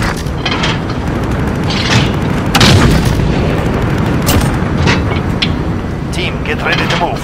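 Heavy booms and blasts from a gunship firing in the game Call of Duty Modern Warfare roll continuously over dense battle noise, with repeated explosive impacts throughout.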